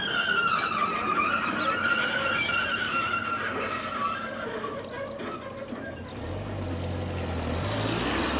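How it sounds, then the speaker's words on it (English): A car with a mechanical problem passing on a village road, a steady loud engine roar with a squealing, grinding tone throughout, then a lower rumble settling in near the end. "somebody's got a car issue"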